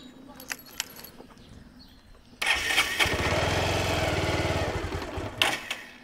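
A motorcycle with water in its petrol tank bursts into life after a quiet pause and runs roughly and loudly for about three seconds before faltering and dying away.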